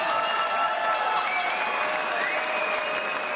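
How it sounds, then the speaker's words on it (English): Steady applause from a boxing crowd in San Antonio after a ten-round fight, a dense, even patter of clapping at moderate distance that holds throughout. "We get a nice round of applause out here for both of these fighters"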